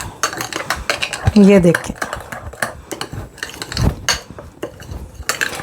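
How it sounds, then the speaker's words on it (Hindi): Marinade ingredients being mixed in a bowl for tawa eggplant, with a spoon clinking and scraping against the bowl in irregular strokes, close up, while a person talks over it. "इसके अंदर ऐड करके तो बस ये मिक्स करेंगे इसको हम अच्छी तरह से"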